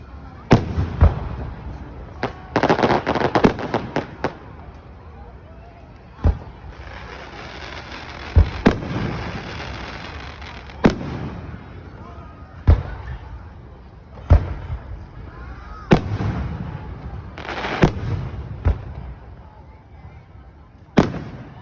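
Fireworks display at the International Seaway Festival in Ogdensburg, New York: repeated booming bursts and thuds, some followed by crackling, spaced irregularly over about twenty seconds, loud and somewhat distant, with occasional voices in between.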